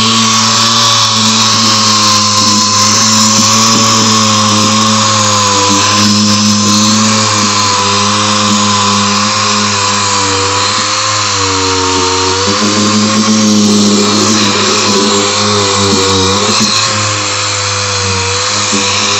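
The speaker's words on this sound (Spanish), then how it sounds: "Es una lijadora neumática, ¿no? Una lija de grado 80, es una lija gruesa." A pneumatic sander with coarse 80-grit paper runs over the rusted, pitted metal of a refrigerator, giving a loud, constant high whine and grinding drone that holds steady throughout.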